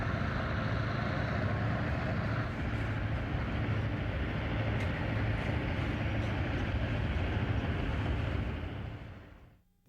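Norfolk Southern SD9 diesel locomotives run along the line with a steady, loud, rumbling engine drone and rail noise that holds for about nine seconds, then fades quickly away near the end.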